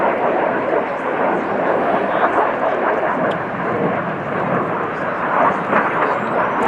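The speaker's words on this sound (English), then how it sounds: "The jets come round for their final nose-to-nose pass" RAF display jets make a final nose-to-nose pass at the 2018 Cosford Air Show, a loud, steady broadband roar of engines filling the whole stretch without letup.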